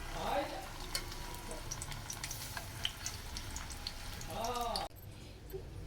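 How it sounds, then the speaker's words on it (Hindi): Vegetable egg rolls filled with potato strips fry in hot oil, giving a steady close sizzle with scattered small crackles and pops, while a voice speaks at the start and again near the end. "अब दोनों को हम फ्राई कर लेते हैं।"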